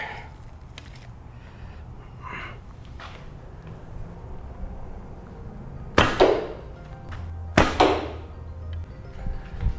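Two arrows strike a Dual Threat archery target in quick succession, each a sharp, loud thwack with a brief rattle, after a stretch of quiet outdoor background.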